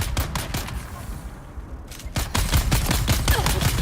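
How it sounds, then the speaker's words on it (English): Rapid gunfire rattles in dense automatic bursts in the sci-fi survival game Dune: Awakening, shots aimed at the player, loud and close with a brief lull midway. "Stop shooting at me."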